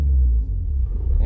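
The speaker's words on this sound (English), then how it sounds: "A little bit off the clutch, into the gas, and get us into a rolling start." A manual-transmission car pulls away from a stop into a rolling start, giving a close, steady low engine rumble throughout.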